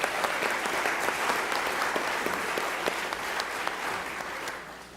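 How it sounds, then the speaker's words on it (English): Warm applause from the audience at a public schools panel in Charleston, a steady wash of many hands clapping that tapers off slightly toward the end. "let's give her a round of applause."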